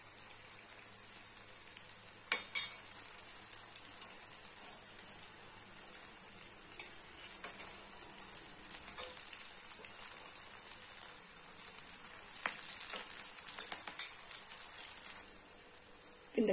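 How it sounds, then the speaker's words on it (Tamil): Beetroot cutlets fry in a pan over a medium flame, giving a faint, steady hiss of sizzling oil with scattered soft crackles throughout. "அடுப்பை மீடியம் ஃப்ளேமில் வச்சு இதை ஃப்ரை பண்ணிக்கணும்."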